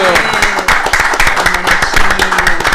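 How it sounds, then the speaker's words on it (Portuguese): Audience clapping for the guest Etinho on a Christian testimony podcast set, brisk steady claps close to the microphone throughout, with a voice talking over them. "Bastidores, palmas para o Etinho."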